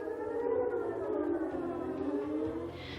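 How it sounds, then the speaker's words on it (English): Danish civil defense warning siren, a loud sustained wail with steady harmonic tones that slowly sag in pitch, filling the whole stretch without any voices. "from Denmark, the sound of sirens"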